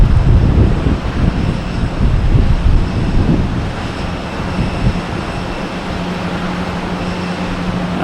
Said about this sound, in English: It is a lot windier up here.